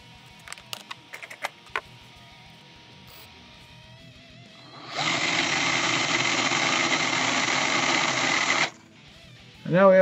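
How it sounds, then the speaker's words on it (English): A power drill spins a length of Kanthal wire whose far end is gripped with pliers, giving a steady, loud motor whir for about four seconds. Light clicks and handling noises come before it, and a voice speaks briefly. "you put this in the drill, you hold the other end with your pliers, apply pressure and spin the drill for about 5 seconds and straighten the wire out"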